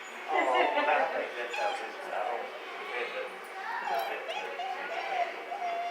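A mixed-breed puppy with broken ears whimpers and yips in high, wavering cries during a training lesson, near and continuous for several seconds, with people chattering underneath.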